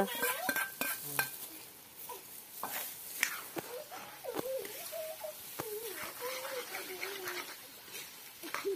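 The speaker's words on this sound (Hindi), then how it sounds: "और अब डाल दिया तला हुआ एक जिमकंद के पीस।" Fried elephant foot yam pieces tipped into a pot of gravy and stirred, with scraping spoon-on-pot clatter and soft sizzling, close and moderately loud, while a voice talks over it.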